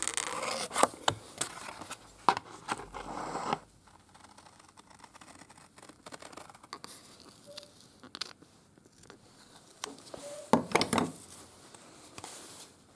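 Gasket material for a pocket bike engine is cut out by hand, giving soft intermittent rubbing and snipping scrapes with quiet pauses between bursts, close and faint.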